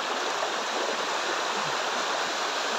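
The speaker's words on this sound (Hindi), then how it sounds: "देखिए यहीं का पानी जा रहा है नीचे" Water pours steadily down a waterfall at Sikidiri near Ranchi, Jharkhand, a loud, continuous broadband rush close by with no pauses or talk.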